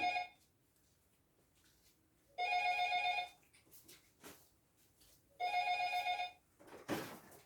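A telephone rings in two clear bursts with a pause between them, the call coming from an opinion poll during election season; the room is otherwise quiet apart from faint shuffling.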